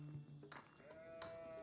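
Sheep in Age of Empires 4 give a couple of short, faint bleats amid quiet game ambience, with no talk over them.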